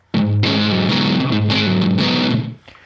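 An electric guitar runs through an ART SGX 2000 preamp on its Rock Class preset, giving a loud, distorted run of sustained chords and notes that rings for over two seconds before fading out.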